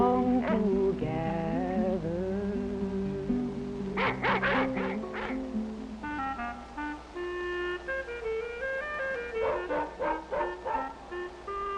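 Several dogs bark and yip in quick bursts of varied pitch, some high and squeaky, repeating in uneven clusters at close range with no talk.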